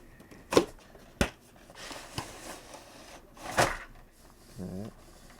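Cardboard and plastic packaging of a Marvel Legends Psylocke action figure being opened, a handful of sharp clicks and tearing snaps spread out, close and distinct, with a short voiced murmur near the end.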